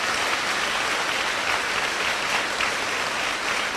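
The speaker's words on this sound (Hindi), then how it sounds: "जोर से तालियां बजेगा, प्रभु धन्यवाद दीजिए" A church congregation claps loudly and steadily in a dense, continuous burst of applause that fills the whole moment, with no talking heard over it.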